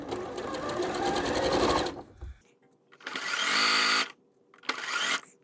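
A sewing machine stitches fabric strips for a table runner in three bursts of rapid mechanical stitching, separated by brief pauses, close and fairly loud.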